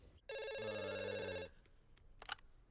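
A telephone rings for an incoming call with one long, loud electronic trill lasting about a second, followed by quieter handling noises and a short click.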